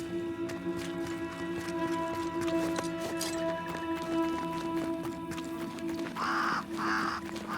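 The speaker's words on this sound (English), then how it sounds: "Did I see you talking to a crow just now?" A crow caws twice in quick succession near the end, over a steady ambient music-and-atmosphere bed from the video game Banishers: Ghosts of New Eden, after a quieter stretch of faint footstep-like sounds.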